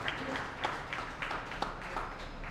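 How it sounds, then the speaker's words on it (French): Sparse, fairly quiet applause at an awards ceremony for civic innovation and leadership, a handful of distinct claps spaced across a couple of seconds over faint room noise. "Encore une fois, un beau applaudissement pour Franklin Charles."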